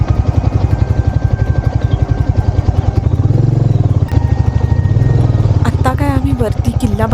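Off-road motorcycle on a winter ride near Rajmachi, Lonavala, its engine thumping in a steady, close, loud rhythm that rises and settles as the bike moves along the trail.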